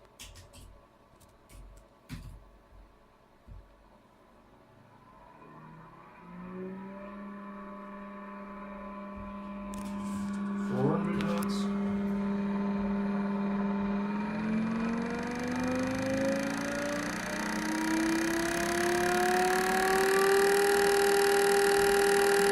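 A Siren-3G mechanical siren spins up to a steady 200 Hz tone, a pure humming wail that rises and then holds, growing louder and brighter, after some scattered clicks and handling knocks.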